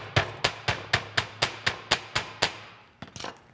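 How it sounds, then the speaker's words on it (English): A hammer strikes the end of a wire for torch-fired enamel bead work: about ten evenly spaced, sharp metallic taps ring out, close and loud, then a short cluster of softer knocks. "You come in with a hammer. And you want to hammer the end of your wire."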